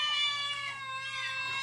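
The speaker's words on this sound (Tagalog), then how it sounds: "Agmimiyaw dagiti pusa" A cat meows once in a drawn-out, steady, tonal cry, close and clear against a quiet background, ending in an abrupt sharp noise.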